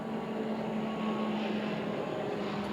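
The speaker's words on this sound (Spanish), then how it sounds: "En este momento estoy viendo dos aviones acá de guerra." Two military warplanes passing overhead, a steady droning engine roar with a humming tone, distant and sustained without breaks.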